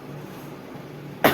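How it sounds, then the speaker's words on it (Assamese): A single short, sharp cough bursts out at the very end, close and loud, after a stretch of quiet room noise in a home kitchen where a papaya vegetable dish is being cooked. "কাহ উঠিলে দেই।"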